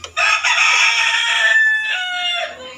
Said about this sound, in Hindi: ये देखो मुर्गा जान दे रहा।